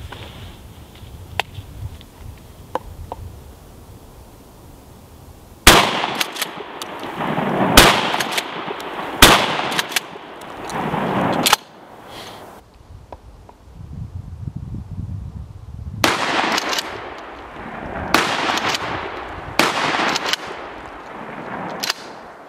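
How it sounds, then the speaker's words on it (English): Loud, close shotgun blasts from a Remington 870 firing double-aught buckshot into blocks at about seven or eight yards, several sharp reports with echoing tails, spaced seconds apart and separated by quieter gaps. "So I fired 3 rounds of double up buck from about 7 or 8 yards out of this Remington 870 into this block"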